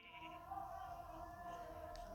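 A sheep in Minecraft bleats steadily over a droning background hum, a single drawn-out call lasting a couple of seconds.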